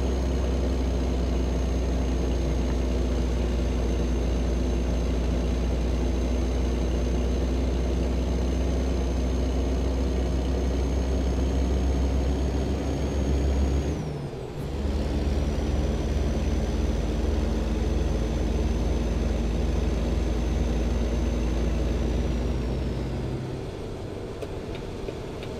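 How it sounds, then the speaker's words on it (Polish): A truck engine in American Truck Simulator drones steadily as it climbs a long uphill grade, a loud, constant low hum with a brief dip and shift partway through. "jedziemy cały czas pod górę, co nie tylko widać, ale też po silniku słychać, że ma problemy z wspinaczką"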